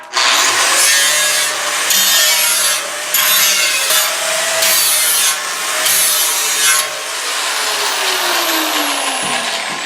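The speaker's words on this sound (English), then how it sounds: "I'm going to clean it up with a little tiger paw, a little sanding disc." A tiger paw sanding disc grinds the ragged, sharp cut edge of a steel quench tank, a loud continuous abrasive whine with brief dips as the disc is lifted and reapplied.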